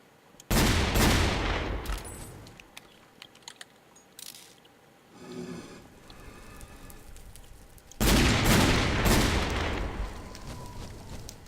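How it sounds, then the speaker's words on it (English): Gunfire in the Minecraft-style game Towncraft: two loud sustained bursts of rapid shots, one at the start and one near the end, separated by quieter clicking and rattling. "Somebody was like shooting at me."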